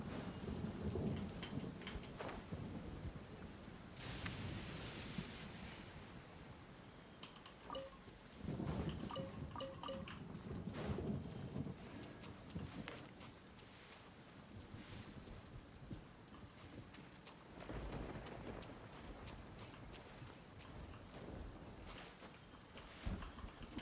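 Thunderstorm with rain in the Genshin Impact game world: steady rainfall hissing throughout, with several deep thunder rumbles and cracks rolling in at intervals, fairly close and loud.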